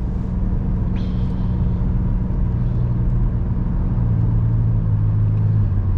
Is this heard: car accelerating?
yes